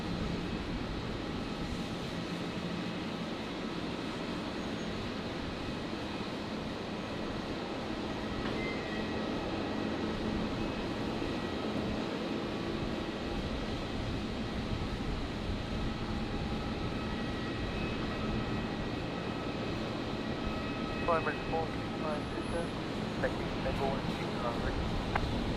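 Emirates 435 Super heavy jet at Brisbane Airport at night, a faint far-off engine drone holding steady beneath people talking and radio chatter.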